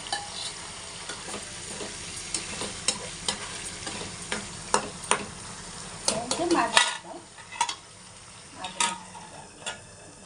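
Paneer frying in a mutton curry in a pan, with a constant sizzle and a spoon repeatedly scraping and clinking against the metal. A louder burst of sizzling comes in the middle, then the frying quiets down.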